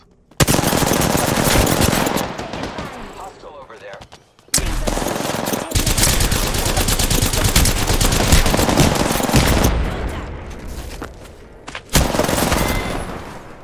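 Rapid automatic gunfire from a battle royale video game fight, loud, close and sustained, with dense bursts broken by two brief pauses before the shooting resumes.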